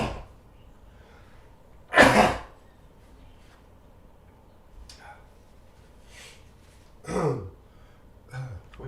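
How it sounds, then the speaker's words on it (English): A few short, harsh coughs, one loud burst followed by two fainter ones several seconds apart, with quiet room noise between. "I gotta cough hard"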